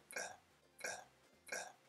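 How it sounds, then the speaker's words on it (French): A person burps three times in quick succession, each short and fairly quiet, evenly spaced and close. "J'ai roté."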